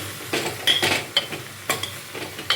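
Okra sautéing in oil for a curry, a soft steady sizzle broken by a few sharp scraping stirs of the spoon against the pan, close and fairly quiet.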